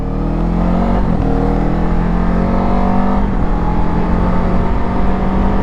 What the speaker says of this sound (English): And there's the gas engine.